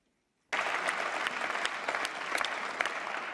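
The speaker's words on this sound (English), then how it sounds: "It's strange if we didn't get applause at that point in the speech" Applause breaks out suddenly in the European Parliament chamber at its 70th anniversary ceremony. It starts after a brief silence and then stays as a dense, sustained clatter from many hands at an even level.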